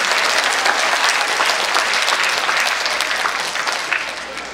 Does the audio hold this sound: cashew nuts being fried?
no